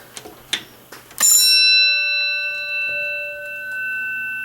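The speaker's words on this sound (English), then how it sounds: "A genuine Otis bell." A few faint clicks, then a single loud metallic strike of an old Otis elevator bell that rings out and slowly decays for several seconds.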